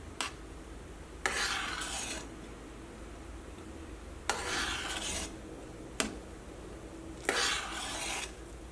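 A spoon mixing bread into milk in a bowl, heard as four short scraping, rasping strokes with sharp clicks against the bowl, spaced a few seconds apart over a quiet background.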